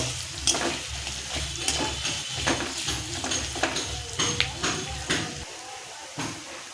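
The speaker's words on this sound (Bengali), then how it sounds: "নাড়তে থাকবো লাল হওয়া পর্যন্ত।" Onions stirred while frying in a pan, a steady sizzle broken by repeated scraping strokes of a spoon, close and fairly loud throughout.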